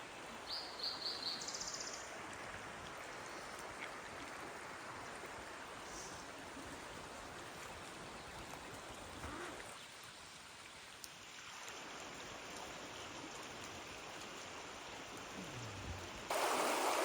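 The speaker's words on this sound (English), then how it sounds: "The whole morning has been in" Light, steady rain falls outdoors at a river crossing on a rainy Gila morning, a continuous soft hiss mixed with running stream water, a few faint bird chirps near the start.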